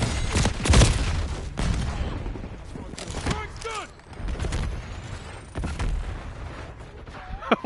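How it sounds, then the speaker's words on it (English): Call of Duty: Black Ops 6 multiplayer match on a hardpoint mode, with loud rapid gunfire bursts and booming impacts crowding together, a grenade blast among them, while a voice talks over the combat. "Hostile grenade."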